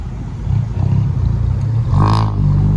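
A loud, raspy car exhaust revs close by at a merit-making festival, rumbling unevenly before a sharp rise in pitch around the middle of the short burst.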